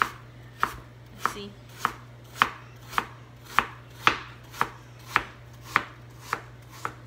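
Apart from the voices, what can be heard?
knife chopping food into very small pieces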